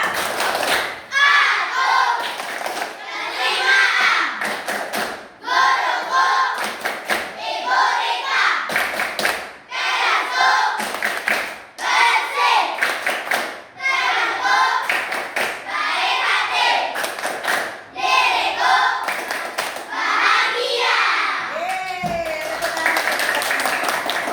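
Primary school pupils of class 5A clap a rhythmic class cheer in the classroom, with quick patterned bursts of many hands and thumps, punctuated by brief pauses and mixed with children's voices chanting along.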